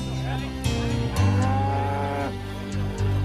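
Cattle on a Texas ranch near Beeville moo loudly and close, with two or three overlapping drawn-out calls over a steady low background.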